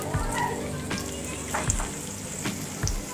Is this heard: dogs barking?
no